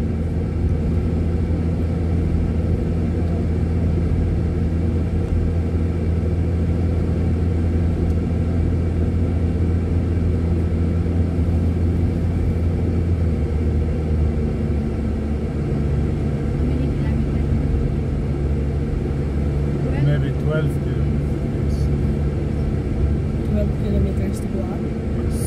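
A car engine climbing the steep mountain road of Jebel Hafeet in Al Ain, pulling uphill in manual gear, gives a steady, continuous low rumble that holds for the whole stretch, with no breaks.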